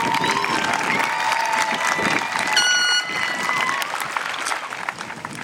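Audience applause at a high school graduation ceremony, a dense, steady wash of clapping from a large crowd with a few brief cheers and whistles rising over it, loud and sustained throughout.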